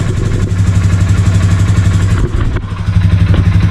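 A Polaris 570 Sportsman ATV engine running after its first start in over six months, a loud close rumbling idle with throttle blips and a brief dip midway.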